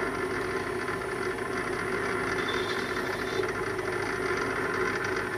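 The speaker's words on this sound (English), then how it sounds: "Now I will increase the inner diameter in the bigger pulley." A small lathe with a small cutter bores out the inner diameter of a metal pulley, making a steady, dense mechanical whir and hum that continues unbroken throughout.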